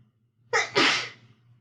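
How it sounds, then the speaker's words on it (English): A single loud sneeze up close, a sharp intake of breath followed by an explosive burst, then quiet. "I'm going to sneeze."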